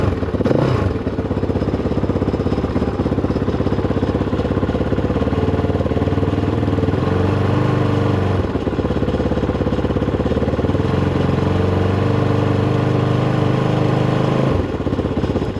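A KOVE 450 Rally motorcycle engine idles steadily up close, with a low, even thrum and mechanical clatter throughout, dipping briefly near the end before settling back to the same idle.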